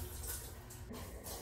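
Shower water runs in the compact cubicle of a Japanese night train, a steady hiss of spray that is moderately close and uninterrupted, with no talking over it.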